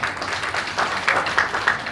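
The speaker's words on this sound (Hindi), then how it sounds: "दीपावली के शुभ अवसर पर जोरदार ताली तो बजाना चाहिए" An audience at a Diwali get-together claps in a brisk, dense patter of applause that swells slightly midway, heard fairly close with no voices over it.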